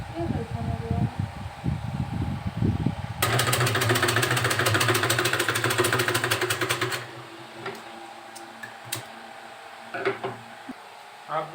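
An electric sewing machine stitches a pillow cover at home, a fast steady whirr of needle strokes running for about four seconds, loud and close, with a woman's chatter before and after.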